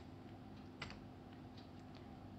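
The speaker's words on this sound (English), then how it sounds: "you have to press F8 on your keyboard" A single key press on a computer keyboard, the F8 key, gives one soft click near the start, then a few fainter taps against a steady low hum of room noise.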